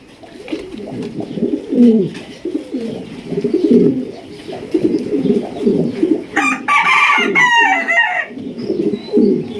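Pigeons at a pigeon market coo in a continuous, loud, close chorus of low rolling calls, with a brief higher warbling call breaking in near the end.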